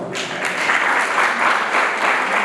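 A debate-event audience claps steadily for the Prime Minister from Northwestern University, a dense, even wash of applause filling the room with no voices over it.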